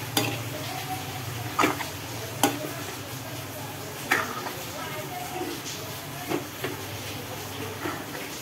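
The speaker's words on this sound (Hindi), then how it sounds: "अब इसमें मैं ये सारे पोहे डाल दूंगी। और इसे मिक्स कर लूँगी।" Poha goes into a hot pan and is mixed, a soft steady sizzle under periodic sharp scrapes and knocks of a spoon against the pan, close by with a low background hum.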